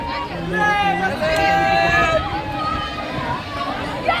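A crowd gathered along the flooded Seena river, a steady hubbub of many overlapping voices talking and calling out nearby, with no single voice standing out.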